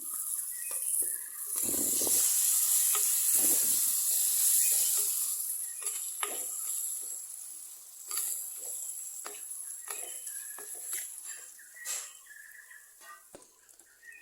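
Spices with Kashmiri chili powder and tomato sizzling in a pan for tomato rasam, a bright hissing crackle that swells loud early on, then settles into a softer, steady sizzle with occasional light stirring clicks.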